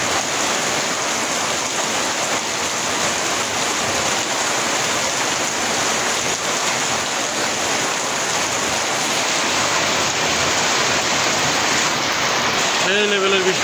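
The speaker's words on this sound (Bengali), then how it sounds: "প্রচুর বৃষ্টি হচ্ছে" Heavy monsoon-like rain pours down in a dense, unbroken roar of hissing water that holds steady and loud throughout.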